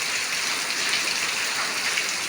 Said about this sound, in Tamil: இங்கே பாருங்க மழையை.